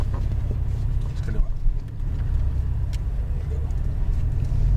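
Porsche Cayman GTS lapping a race track at Exotic Racing in Las Vegas, its engine a steady loud low rumble throughout with no break, heard from inside the car.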